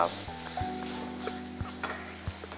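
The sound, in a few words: ingredients being lightly sautéed in a pan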